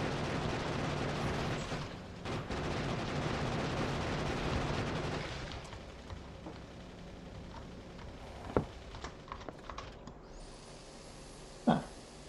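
Grenade blasts in the factory-building game Factorio, first as a dense, continuous rumble of overlapping explosions, then thinning out to a few sharp separate bangs against quieter game ambience.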